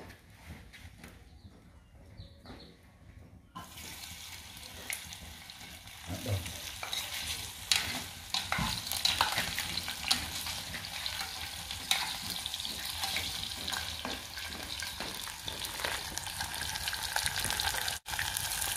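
Pork sausage fries in a hot pot with a steady crackling sizzle that starts after a quiet opening and runs continuously, close up in a home kitchen, with occasional clinks of stirring.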